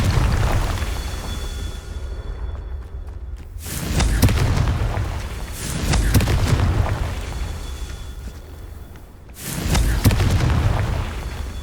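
Confringo, the fire-blast spell in Hogwarts Legacy, goes off three times, each a loud booming explosion with a rumbling tail, spaced a couple of seconds apart over low background game ambience.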